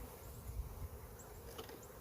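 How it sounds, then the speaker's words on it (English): Honeybees from a shipped package hum in a steady, low drone throughout, with a few faint higher buzzes of individual bees flying close by. "So let me get the bees here."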